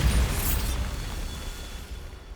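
A Bombarda blasting spell detonates in Hogwarts Legacy, a loud low boom at the start that rolls off into a long rumbling decay.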